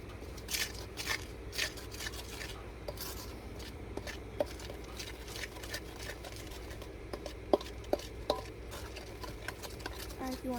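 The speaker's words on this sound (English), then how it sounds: "we're going to mix this all up" Butter and milk pie batter being stirred in a bowl outdoors, a soft continuous scraping and swishing with occasional light clinks of utensil on the bowl, fairly faint against background noise.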